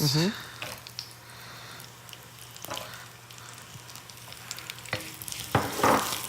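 Onions with green and red peppers sautéing in a restaurant wok, a steady low sizzle with scraping stir strokes and louder tossing bursts near the end, with a voice speaking over it.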